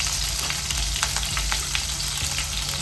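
Urad dal, dried red chilies, chopped green chilies and curry leaves fry in hot oil, a continuous close sizzle with crackling pops and light stirring scrapes.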